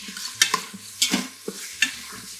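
Browned sausage and spices stirred with a fish spatula in an Instant Pot while making Zuppa Toscana, giving a quiet sizzle under irregular scraping strokes, about four sharper scrapes against the pot bottom.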